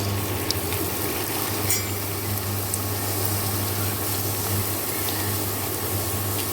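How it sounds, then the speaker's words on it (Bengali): Luchi, palm-flavoured puri, frying in hot oil, giving a steady bubbling sizzle with a constant low hum beneath and occasional sharp crackles, close and continuous. "এবার লুচিটা ছেড়ে দেবো তেলের মধ্যে।"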